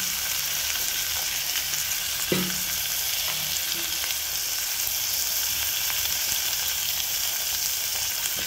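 Washed dried prawns frying in a pan, a steady dense sizzle that holds level throughout, with one brief clink of a utensil early on.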